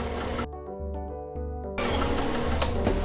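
A sewing machine runs a stay stitch along the front yoke of a garment, with a brief motor whir that drops to a tonal hum in the middle and then resumes as a denser, louder mechanical buzz.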